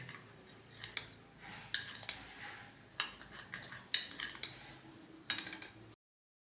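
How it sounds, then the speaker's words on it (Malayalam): A spoon knocks and scrapes against a bowl while mixing a powder-based facial paste, giving a string of quiet, irregular clinks close by, with no talking. "ഇത്ര മതി നല്ലപോലെ നമുക്ക് മിക്സ് ചെയ്യാം"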